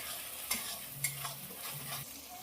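Ground spice paste with turmeric, salt and a little sugar is stirred and fried in a pan for a potato and aubergine vegetable curry: a soft sizzle under quiet scraping, with two sharp spatula taps.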